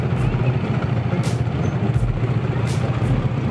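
Heavy road traffic near a junction in Hyderabad: a dense, steady rumble of trucks and buses, with short hissing bursts like air brakes, heard up close from the roadside.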